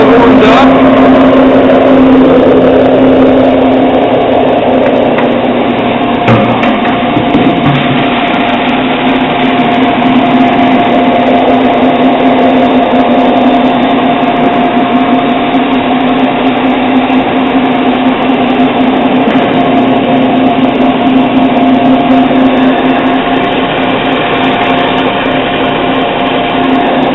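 A Riverside pellet mill runs continuously while turning warmed feed into chicken feed pellets, giving a loud, steady mechanical drone with a constant hum that holds for the whole stretch.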